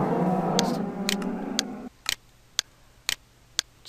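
Cows spawned by a command in Minecraft Beta 1.5_01 moo in a burst of overlapping low calls, which stop abruptly, followed by several sharp, evenly spaced clicks in near silence.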